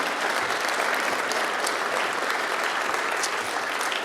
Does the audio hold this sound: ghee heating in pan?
no